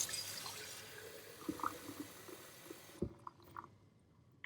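Hot water pours steadily into a container at close range, a soft broadband splashing rush for about three seconds, then a few faint drips and clinks in near quiet.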